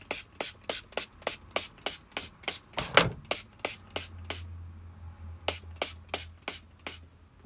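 Hairspray used as makeup setting spray, misted onto the face in rapid short aerosol bursts, a steady series of close hissing puffs with a brief pause, then more sprays.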